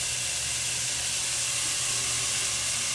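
Ground sirloin and sweet Italian sausage, browning for lasagna, sizzle in a hot pan with a steady, bright hiss that holds at an even level throughout, close by and with no talking over it.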